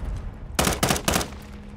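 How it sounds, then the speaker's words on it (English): Three rapid bursts of gunfire in the Warzone 2.0 battle royale, loud and close, clustered within about half a second amid quiet game ambience. "Shooting that, buddy."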